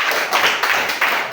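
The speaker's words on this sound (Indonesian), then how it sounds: "Berikan tepuk tangan kepada Asrul." A classroom group applauds a student, many hands clapping in a brisk, close, continuous patter for a moment with no talking.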